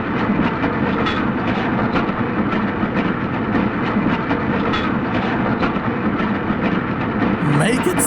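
Looped train soundtrack from an Alfred Hitchcock film chase scene aboard a train, a continuous loud rumbling clatter of rolling railcars with rhythmic clicks, steady and unbroken, with some voice-like sounds mixed in.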